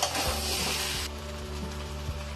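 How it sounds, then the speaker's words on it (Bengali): Fried potatoes stirred into a Bengali-style spicy mutton curry in a pan, with a steady loud sizzle and soft scraping of the spoon throughout, no talking. "আলুগুলো মাংসের সঙ্গে একটু ভালো করে মিশিয়ে নেব।"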